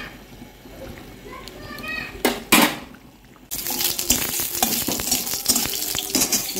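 Dal being tempered in a pan of hot oil in a home kitchen bursts into a loud, steady sizzle partway through, after a quieter stretch of soft kitchen clatter, and keeps crackling close up to the end.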